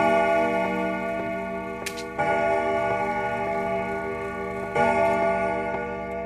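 A clock in the horror game Emily Wants To Play ticks steadily and evenly, close and fairly loud, with a couple of brief thuds, and no voices over it.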